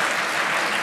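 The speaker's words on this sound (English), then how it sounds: "So give a big round of applause to Will." Audience applause at the close of a computer science talk, a short burst of dense, even clapping from a large crowd.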